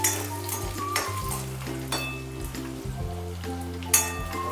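Ginger and garlic with a little cumin sizzle and crackle in hot oil in a frying pan, a steady loud hiss with occasional stirring scrapes, with no talking.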